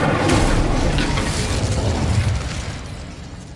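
Incendio fire spell cast in Hogwarts Legacy, a loud close burst of roaring, crackling fire and rumble that holds steady for a couple of seconds before fading lower.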